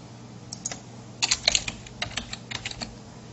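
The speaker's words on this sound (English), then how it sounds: "So let's go ahead and type in" Keys clatter on a computer keyboard in a quiet room, a few scattered taps and then a denser burst of close, light clicks in short irregular runs.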